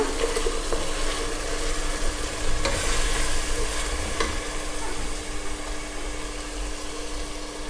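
Ground ginger, garlic and herb paste stirred into mutton frying in oil for biryani, a steady close sizzle with scraping stir strokes throughout, no talk.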